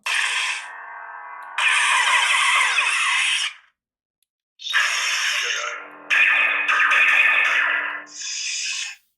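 A lightsaber's stock sound font on a Proffie board plays bright, buzzing ignition and retraction sweeps in separate loud bursts with short silent gaps between them, and no voices.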